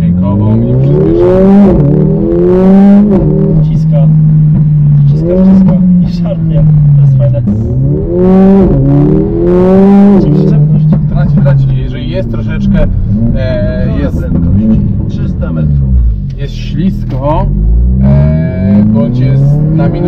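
A modified Mercedes-AMG A45 accelerates hard up close, its engine rising in repeated revving sweeps through the gears, with a person talking over the loud engine throughout.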